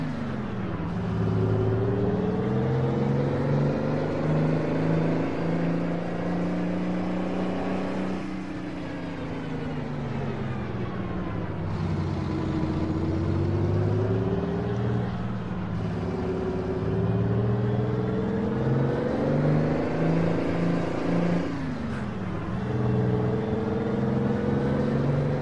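A Mack Superliner truck engine in American Truck Simulator drones steadily and loudly, its pitch rising with each gear and dropping sharply at shifts around every few seconds, heard alone without talk.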